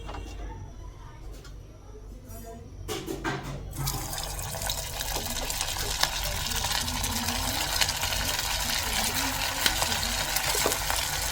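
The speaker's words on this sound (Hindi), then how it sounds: "तो इनको बस है ना मुझे फ्राई करना है।" Rolls frying in a pan in a home kitchen: after a few seconds of low background noise, a steady broadband sizzle starts and keeps going, with a voice talking over it.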